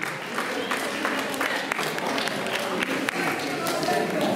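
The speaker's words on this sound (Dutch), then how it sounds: "Geef ze nog een daverend applaus" Crowd applause at a flower presentation during a youth awards ceremony for 12-year-old girls in Herenthout, a steady dense patter of clapping lasting several seconds with scattered louder claps.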